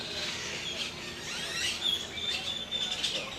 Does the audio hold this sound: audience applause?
no